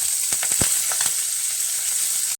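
Onion and curry leaves sizzling in hot oil with cumin and mustard seeds for a brinjal gojju, a loud, steady frying hiss with a few crackles and pops, close and continuous, no voice.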